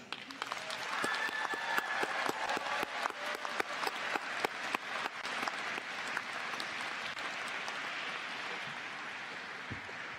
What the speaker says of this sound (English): will you please join me in thanking by clapping your family and friends